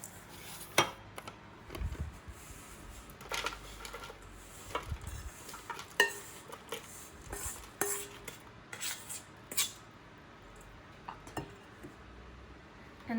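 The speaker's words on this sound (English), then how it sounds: "then you want to mix everything up until you get a wet sand consistency" A spoon mixing a Biscoff biscuit crumb base in a bowl, giving irregular scraping and clinking strokes against the dish, close but fairly quiet, with no talking.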